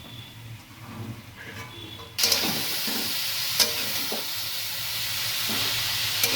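Boiled cabbage and fried potatoes being stirred with spices in a hot pan: a loud, steady sizzle starts abruptly and continues, with occasional scraping and clinking of the spoon, close up.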